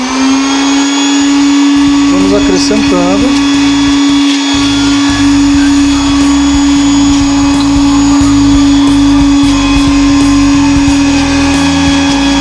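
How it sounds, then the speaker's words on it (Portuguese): A blender whirs steadily at high speed while emulsifying a creamy, mayonnaise-like sauce, a loud constant motor hum with a fluctuating churning texture as ingredients are added gradually, and a person speaks briefly over it. "Então nós vamos aqui com o liquidificador ligado."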